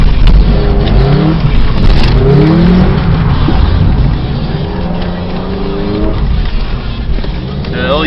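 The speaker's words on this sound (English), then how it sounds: "We about to drift." A Mazda MX-5 revs hard while drifting on a wet road in the rain, producing a loud, close, continuous engine roar with rising and falling pitch sweeps over a dense wash of road and spray noise.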